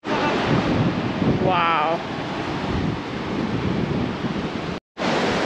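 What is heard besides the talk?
ocean waves at Nunggalan Beach, Uluwatu, Bali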